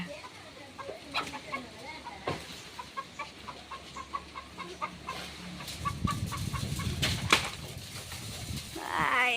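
Chickens cluck in scattered short calls near and far around a home, with people talking over them and a busier burst of clucking toward the end.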